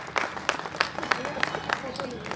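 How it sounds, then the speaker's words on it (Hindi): An audience at a Hindi poetry gathering claps in welcome during an honoring ceremony, with evenly spaced claps under ongoing talk from a speaker. "श्री प्रीति शुक्ला, हम एक बार जोरदार तालियों के साथ उनका स्वागत अभिनंदन करें।"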